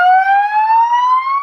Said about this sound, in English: and then there's a siren up on my gable roof, and I blow sirens every touchdown